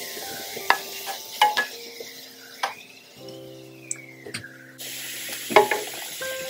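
Onions fry in a pan, a soft sizzle broken by several sharp scrapes and clinks of a utensil stirring against the pan, with faint tonal hums in the background and no talking.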